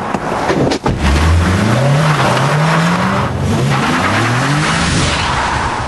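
Honda S2000 sports car with about 236 bhp, driven hard on the North Circular, its engine loud and close with rising revs and a brief tire squeal.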